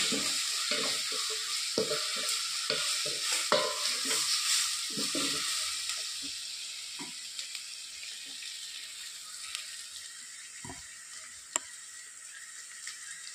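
Spices frying in a pan until the raw smell cooks off, a steady close sizzle with scattered scraping stirs in the first half, easing to a quieter hiss with a few clinks later.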